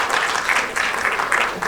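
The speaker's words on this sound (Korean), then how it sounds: "두 분께 뜨거운 박수 부탁드리겠습니다." Warm audience applause at a Korean community conference, a steady, dense wash of clapping from many hands filling the whole short stretch, loud and close with no talk over it.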